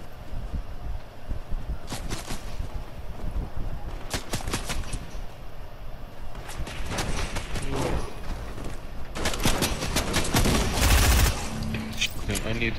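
Bursts of gunfire in Fortnite ring out in rapid volleys separated by short pauses, loud and close, with a few scattered shots between the heavier strings and voices heard in the background.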